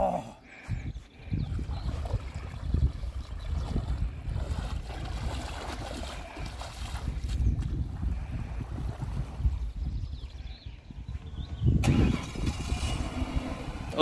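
A Ford Taurus 3.0 V6 engine cranks and starts outdoors, then settles into a rough, continuous idle with a louder surge near the end and faint voices in the background.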